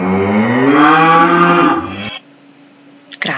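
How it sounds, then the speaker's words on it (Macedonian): A cow lets out one loud, long, close moo lasting about two seconds, then it cuts to quiet with a faint hum and a brief noise at the end. "Крава."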